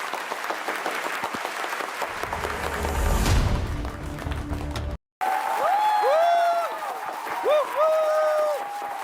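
A studio audience at The Mask Singer claps loudly after a sung performance, with dense, steady applause for about five seconds before an abrupt cut to other sounds.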